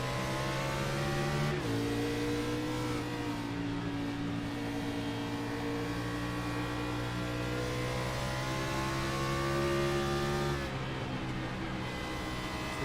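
Race car engines at Bristol Motor Speedway in a sim racing game drone steadily, then rise sharply in pitch as the field accelerates at the green flag restart, a loud sustained engine whine.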